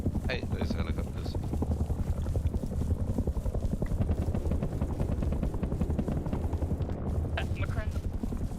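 Helicopters circle in the video game Rust with a continuous heavy rotor drone, joined by scattered bursts of gunfire and talk over the top.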